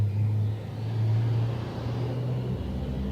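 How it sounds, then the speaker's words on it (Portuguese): A pickup truck drives past outdoors, a low engine rumble and tire roar that swells as it nears and then eases off over a few seconds. "Acho que era uma caminhonete."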